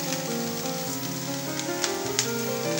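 Cauliflower florets, cabbage and green chillies fry in a pan of oil for vegetable pulao, giving a steady close sizzle with a few sharper pops and crackles.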